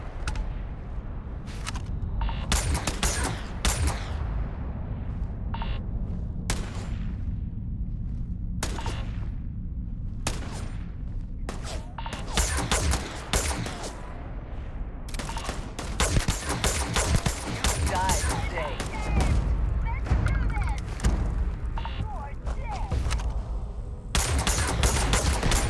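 Gunfights in the video game Starfield crack out in repeated bursts of rapid shots and loud booms, clustered volleys separated by brief pauses, with no talk over them.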